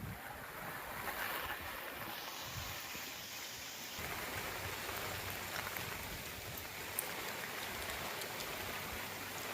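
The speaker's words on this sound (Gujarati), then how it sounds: "વરસાદ ચાલુ છે." Steady hiss of rain falling outdoors, a constant soft wash of sound with a faint breezy undertone.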